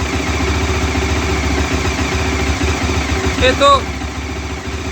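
A Bajaj Dominar 400 motorcycle engine idling steadily with a low, even thrum, while someone speaks over it.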